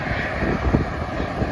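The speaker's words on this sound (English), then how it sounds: "Sounds like a jet engine going in the background." A steady low roar like a jet engine drones from Barrel Spring in Yellowstone National Park, constant and even throughout with no talking.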